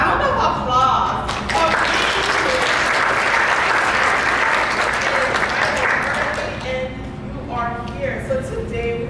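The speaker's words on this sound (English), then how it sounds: "You should give yourself a round of applause." An audience at a graduate college kick-off event breaks into loud, sustained applause that fills the room and fades near the end, with a few voices and laughs mixed in.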